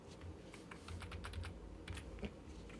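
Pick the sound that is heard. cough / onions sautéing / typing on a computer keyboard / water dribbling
typing on a computer keyboard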